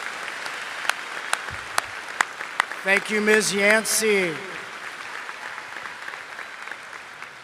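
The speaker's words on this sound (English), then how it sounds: "One more round of applause for the senior choir and our ASL students" Scattered, thinning applause from a crowd at an Oregon High School graduation ceremony for the senior choir and ASL students, with a voice speaking briefly over it midway.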